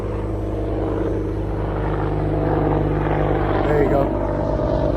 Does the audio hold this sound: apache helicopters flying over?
yes